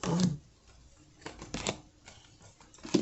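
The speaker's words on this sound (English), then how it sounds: "as soon as I get done with the shuffles" A deck of cards is shuffled several times in short riffling bursts, fairly quiet and close, with soft handling noise between bursts and no talking.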